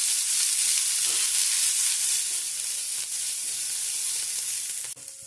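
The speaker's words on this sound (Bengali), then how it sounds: "এবার পেঁয়াজ কুচি আর কাঁচা লঙ্কা কুচিকে নেড়ে চেড়ে একটু ভেজে নেব।" Chopped onion and green chili sizzle steadily in hot oil, a bright continuous frying hiss with faint stirring scrapes and a small clink near the end, no voices.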